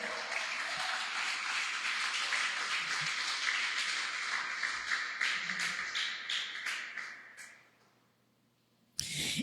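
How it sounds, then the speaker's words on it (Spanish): A church congregation applauds during a sermon, a sustained wash of clapping that holds steady for several seconds, thins into scattered claps and fades to near silence before a brief loud burst at the very end. "Un aplauso para Él."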